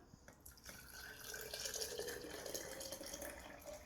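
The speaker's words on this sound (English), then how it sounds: "And add the hot water." Hot water pours into an electric tea kettle holding fine sea salt, a steady close splashing trickle that fills the whole moment without any talk.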